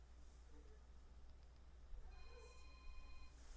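A mobile phone ringtone goes off in a university lecture hall, a faint, distant electronic tone heard briefly over room hiss.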